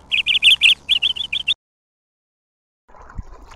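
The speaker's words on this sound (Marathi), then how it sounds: "कांदळवनात तुम्ही बघत असाल तर पक्ष्यांचे पण आवाज येतात जे आपला जंगलात येतात।" Birds in a coastal mangrove forest, heard on a kayak trip, give a burst of rapid bright chirps for over a second, then silence, followed by a low faint rustle and a soft bump.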